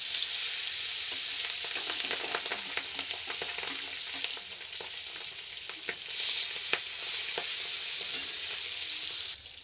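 Pabda fish sizzle in hot mustard oil in a pan, a bright continuous frying hiss with scattered pops and crackles throughout, swelling briefly partway through.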